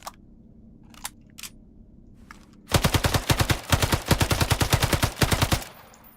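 Hipfire from a weapon in Islands of Nyne: a few faint clicks, then a loud, rapid automatic burst of evenly spaced shots lasting about three seconds before stopping abruptly.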